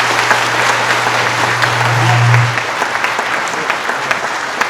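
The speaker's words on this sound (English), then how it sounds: "Everyone give these two a round of applause." A conference audience at a Linux community event breaks into dense, steady applause lasting several seconds, swelling briefly near the middle before settling, with a low hum beneath it.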